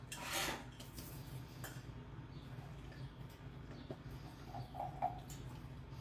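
Chopped bacon being stirred into carrots in a bowl for carrot flans, giving soft scraping and light clinks of a utensil against the dish, close and fairly quiet, with no talking.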